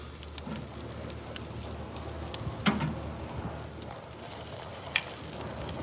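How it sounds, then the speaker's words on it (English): Jalapenos sear on a Primo grill with a soft, faint, steady sizzle and crackle, broken now and then by a few sharp pops and ticks, and no voices. "I'm going to move these jalapenos. Let them get a little of this seared heat for a second."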